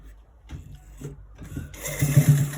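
A sewing machine stitches down a folded shirt flap, starting with a few short hesitant bursts and then running into a steadier, louder mechanical whir.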